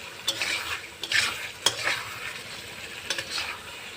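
Fish head curry masala stir-fried in a pan, a low sizzle with repeated scraping and stirring strokes, several sharp clicks of the spoon against the pan, close and without speech.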